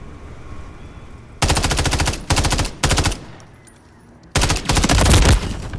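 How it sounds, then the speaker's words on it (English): Call of Duty machine gun fire rips out in loud, close automatic bursts: a long burst, two shorter ones, a quiet gap, then a final sustained burst. "Taking effective fire!"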